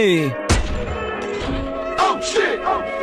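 Gunshots in the video game PUBG ring out in a short burst of sharp game-audio cracks and thuds, mixed with voices talking over the action.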